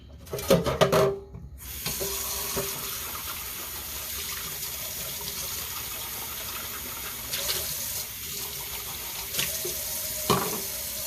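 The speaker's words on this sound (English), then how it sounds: "And then I rinse this out immediately." A small bucket being rinsed out under a running tap, a steady close rush of water into a sink with a louder splashing burst at the start and occasional knocks.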